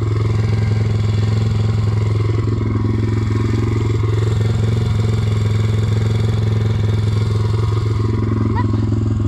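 A motorcycle speeds along a road while towing a broken-down pit bike, its engine droning steadily and loudly with wind rush and rattling throughout, as voices talk over it.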